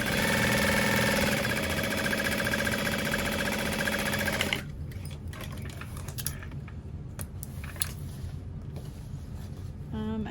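Sewing machine running a small stitch length on the lining of a barrel bag with binding, loud and steady for about four and a half seconds, then stopping, leaving quieter handling noises and faint clicks.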